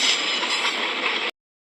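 A passenger train running at night between Bengaluru and Mysuru gives a loud, steady rumble and rush of wheels and carriage noise from on board, cutting off abruptly.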